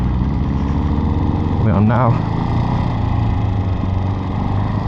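A motorcycle engine runs steadily at idle close by, with a brief voice over it as the rider switches the bike into road mode.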